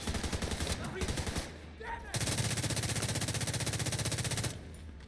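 Rapid automatic gunfire from a weapon in the video game The Division 2, with bursts of quick repeated shots, a brief pause with a short tone, then a longer sustained burst, loud and close.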